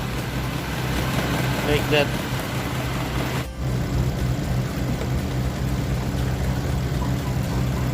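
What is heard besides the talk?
Toyota Camry engine idling with vibration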